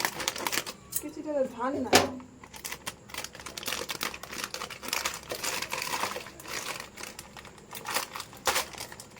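A plastic packet of chanachur snack being cut open and crinkled, with dense crackling and rustling running through the whole stretch while a person talks over it.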